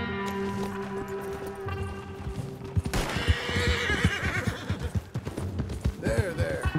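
A horse in Red Dead Redemption 2 whinnies loudly, with hoofbeats clip-clopping and game ambience around it, the neigh rising near the end.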